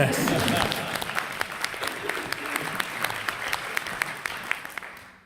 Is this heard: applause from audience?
yes